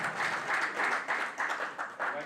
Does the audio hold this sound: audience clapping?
yes